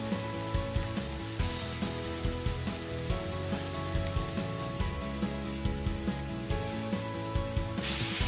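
Mixed minced meat sizzles and fries in a pan, a steady close crackling hiss with small pops and occasional stirring scrapes, no voices.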